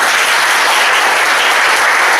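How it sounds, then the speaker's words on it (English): A startup meetup crowd in Hong Kong gives speaker Edith Yeung a round of applause, loud, close and continuous, with many hands clapping in a dense wash and no voices on top. "Let's give Edith a big round of applause."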